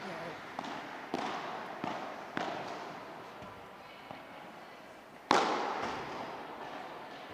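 Padel balls pop sharply off rackets in a rhythmic series during a live match, followed by one louder, crisp smash, all heard at a distance with faint crowd and commentary underneath.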